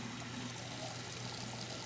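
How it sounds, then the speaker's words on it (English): Water pours and trickles steadily at a sink while a cotton crochet face mask is rinsed out, a faint, continuous splashing hiss with no speech. "Hold this in my hand while I rinse this water out."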